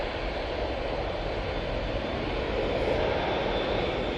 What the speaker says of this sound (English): there goes that Ryanair off to Alicante